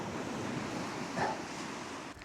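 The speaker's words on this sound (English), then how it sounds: "Oh, that wind is cold." Cold wind blowing at the seaside at night, a steady broadband rush with waves breaking underneath, fairly close and continuous throughout, with no voices.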